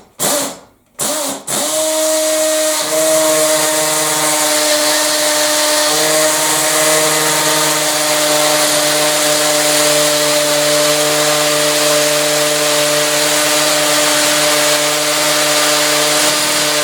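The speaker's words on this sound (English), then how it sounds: "Drill, drill, drill." An electric drill bores into a solid brick wall, starting with a couple of short bursts and then running as one loud, steady, close whine for about fifteen seconds.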